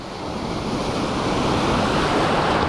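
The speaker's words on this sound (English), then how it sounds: "the waves are breaking so high" Ocean surf breaking over a coral reef in a windy sea, a loud, continuous wash of crashing and hissing water with wind buffeting the microphone.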